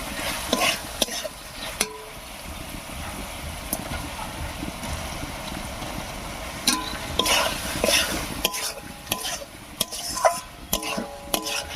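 Prawns are stir-fried in a thick spice masala in a pan over raised heat, giving a steady close sizzle with repeated scraping and clinking spatula strokes against the pan throughout.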